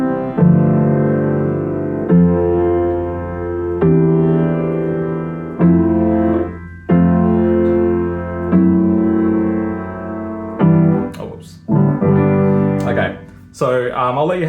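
Piano chords for the verse of a song, struck as sustained blocks every second or two and left to ring, loud and close, with a brief spoken interjection near the end.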